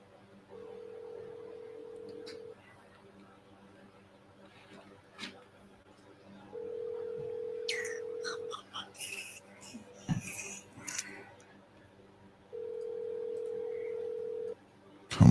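Repeated tones sound on a phone call, three evenly spaced steady beeps about two seconds each separated by pauses, with faint breathing and brief rustling between them.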